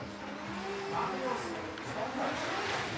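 A 1,000-horsepower BMW drift car with a stroked 3.4-litre 2J engine at a drift competition qualifying run, its engine and tyres roaring steadily at a distance through a three-second pass, with a commentator talking over it.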